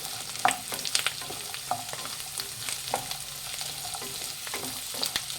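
Finely chopped coconut fries in a pan for radish chutney, with a low constant sizzle and repeated clicking, scraping strokes of a stirring spoon, near and moderately quiet, and no one speaking.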